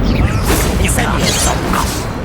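Incendio fire spell cast in Hogwarts Legacy, a loud, dense burst of whooshing, crackling magical fire layered with other combat effects that runs steadily for a couple of seconds, with a voice calling out over it.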